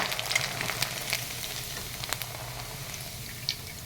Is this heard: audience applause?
no